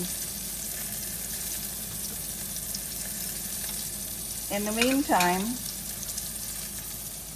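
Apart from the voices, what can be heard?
cod fillet frying in butter in a pan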